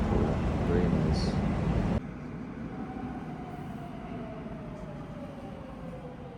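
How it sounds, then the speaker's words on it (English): A metro train rumbles through a Madrid metro station, a loud broadband roar for the first two seconds that drops to a quieter steady hum as it moves off. "I am at the metro. We just got off the speed train or whatever that they have."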